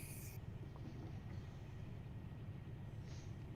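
A steady low rumble from a BNSF freight train running in the Run8 train simulator over Tehachapi Pass, a constant droning engine hum with no distinct events.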